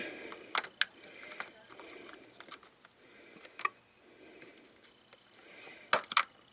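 Screwdriver pressing down snap clips to free an old RV toilet valve, giving a few sharp plastic clicks and snaps in short clusters, close by and otherwise quiet.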